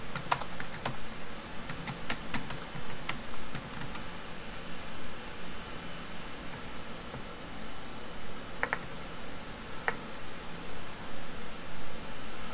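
Someone typing on a computer keyboard nearby, soft irregular clicks in quick bursts and pauses over a steady background hiss.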